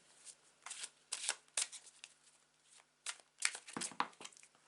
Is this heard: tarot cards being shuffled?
yes